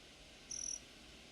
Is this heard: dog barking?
no